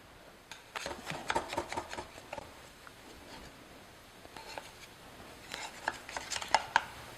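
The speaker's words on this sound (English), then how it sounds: "run either a sharp knife or a spatula, a metal spatula, around the edge" A metal spatula or sharp knife scrapes around the edge of a pan holding a pineapple upside-down cake, giving soft rasping strokes in uneven bursts, close and fairly quiet, with a lull in the middle before a final flurry of scrapes.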